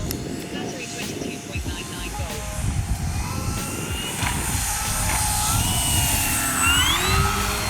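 A large radio-controlled P-51 Mustang warbird model flies during landing practice, its engine droning steadily with a rising, shifting pitch as it passes, over a rumbling outdoor background with someone talking.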